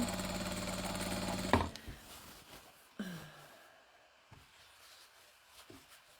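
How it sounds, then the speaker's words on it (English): A sewing machine stitches fabric strips for a jelly roll rug: a loud steady run of fast motor-driven stitching for about a second and a half, then stops, leaving brief handling clicks and quiet pauses. "Grab that end, stitch it on."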